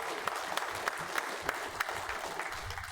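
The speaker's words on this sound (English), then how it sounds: "I think we should give Chip a round of applause for putting this on" An audience at a ham radio talk gives a round of applause, steady clapping from a modest crowd filling the room for a few seconds.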